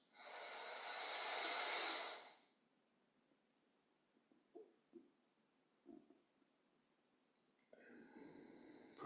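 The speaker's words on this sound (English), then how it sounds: "Breathing in through the nose and out through the nose, listening to the breath." Slow nasal breathing, a long loud inhale followed by quieter, soft exhales and another breath starting, close and alone during a recovery yoga session.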